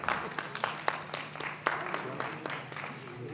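Scattered audience applause at an academic session on Hindu and Buddhist traditions, a modest, fairly faint patter of hands with distinct individual claps standing out over a low steady hum.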